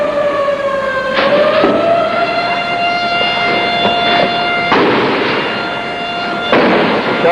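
A newspaper building's siren wails steadily during a street shootout in El Salvador's civil war, a loud sustained tone with rising pitch at the start and repeated sharp bursts of gunfire cutting across it.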